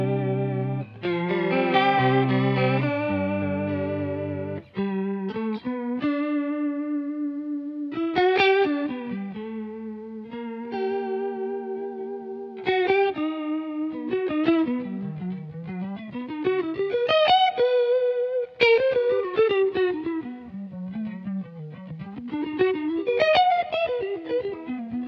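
An electric guitar played through a Truetone Lounge effects unit with a wobbling vibrato, producing a warbling, space-age tone as notes glide and bend in pitch; steady, fairly loud melodic playing with no voices.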